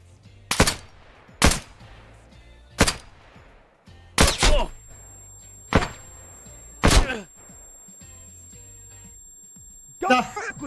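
Gunfire in the video game Escape from Tarkov: about eight sharp, loud single shots at irregular intervals, separated by quiet gaps, with faint voices in the background.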